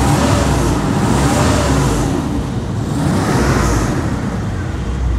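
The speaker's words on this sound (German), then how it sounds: "Ich gehe noch mal rein, ich gebe noch mal Gas." A 1991 BMW 850i E31 with its V12 engine revs hard, a loud, continuous close-up roar of throttle blips rising and falling in two surges, with no talk over it.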